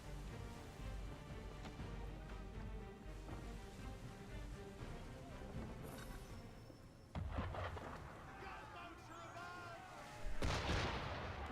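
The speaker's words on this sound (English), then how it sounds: "Why is he shooting at us?" Ship cannon fire in Assassin's Creed III, heavy booms over a continuous bed of sea and battle noise, with voices talking in between.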